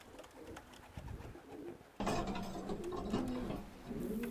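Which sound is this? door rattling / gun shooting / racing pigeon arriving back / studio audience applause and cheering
racing pigeon arriving back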